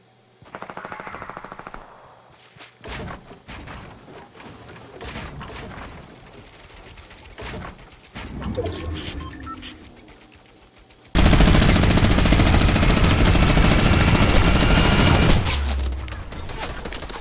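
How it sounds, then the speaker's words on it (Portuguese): Machine gun fire in the Fortnite video game, scattered bursts and single shots at first, then a long, loud, unbroken spray of automatic fire lasting several seconds before cutting off. "Acertou-lhe bué com a metralhadora."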